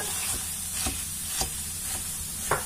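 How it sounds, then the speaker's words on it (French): Meat is added to cooked vegetables and fries in a pan with a constant sizzling hiss, while intermittent stirring scrapes and clicks sound close up. No voices are heard. "Maintenant que les légumes sont bien cuits, on va rajouter notre viande."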